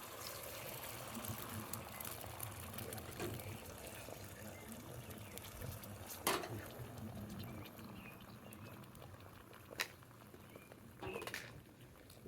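An egg sizzling in an oiled frying pan, a continuous soft crackle and hiss with a few sharper pops, fairly close and low in level, while a person talks over it.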